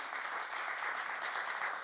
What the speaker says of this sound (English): Big round of applause, ladies and gentlemen, for Dianne Festa.